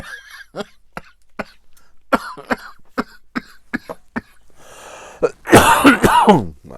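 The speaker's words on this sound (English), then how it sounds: "It's making me cough now." A person coughs repeatedly, short dry coughs spaced through the clip, ending in a louder, harsher fit of coughing close up.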